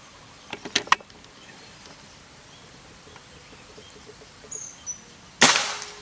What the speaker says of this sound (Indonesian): Kita lanjut tembakan yang kedua.